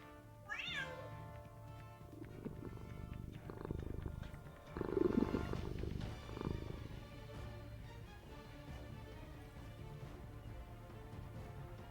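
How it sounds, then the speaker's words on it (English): A ship's cat sound effect from a voice-command program gives a rising meow near the start, then a low rumbling purr that swells around the middle and continues softly, set over steady background hum with no talk. "once in a while you get the meow and the purr"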